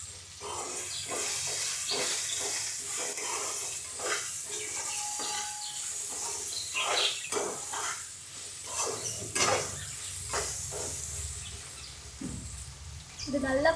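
Pirandai (adamant creeper) and shallots fry in a pan for a Tamil thuvaiyal, giving a steady close hiss and sizzle broken by repeated scraping and stirring taps.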